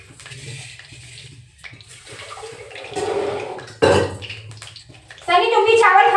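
Uncooked rice being rinsed by hand in water for kadhi chawal, sloshing and splashing in a bowl or pan at close range, growing louder toward the end, with someone talking over it.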